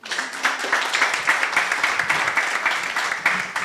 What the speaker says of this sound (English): Ladies and gentlemen, please let's clap for the panelists.